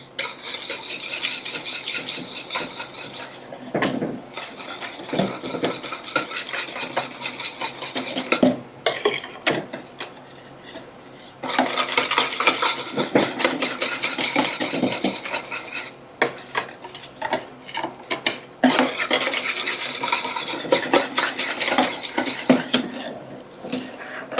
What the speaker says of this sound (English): Want to make sure we're scraping in the corners of this pot